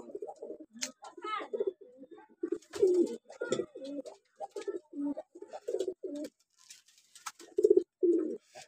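Pet birds, likely pigeons or doves, give repeated soft cooing calls in short bursts throughout, fairly close, with a few higher chirps mixed in.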